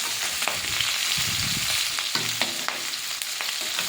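Potatoes fry in hot oil with salt and turmeric in a pan, a steady close sizzle with crackles and occasional stirring scrapes throughout, no talking.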